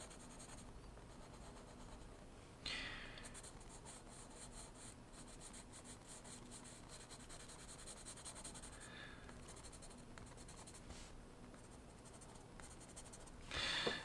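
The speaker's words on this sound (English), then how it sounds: "I'm going to press really hard here, and this is all with just a 2B pencil" A 2B pencil pressed hard while shading on paper, continuous scratchy rubbing strokes with a few louder scrapes, close and quiet, without any talking.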